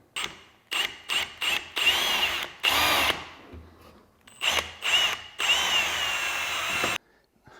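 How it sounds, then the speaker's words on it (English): A power drill whirs in repeated bursts, short pulses then longer sustained runs, its motor whine rising as it bites into material, with brief pauses between. "I think I managed to drill a hole from here to here."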